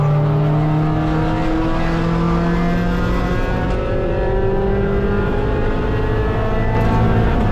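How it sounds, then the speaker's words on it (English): A race car at Mid-Ohio is overtaken on track by a faster out-of-class racer: a loud, continuous engine roar with pitch lines slowly shifting as revs change, close and steady throughout, with no voices. "Getting passed by an out of class racer"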